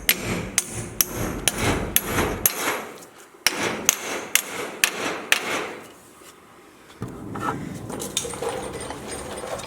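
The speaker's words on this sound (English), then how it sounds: "you can just put the bolt back into it and hit it with a hammer." A hammer strikes a bolt to drive it through a bushing during a Dana 60 axle swap on a 1979 Jeep Cherokee Chief, a quick run of sharp metallic blows, a pause, then a second series of hits before quieter shop noise.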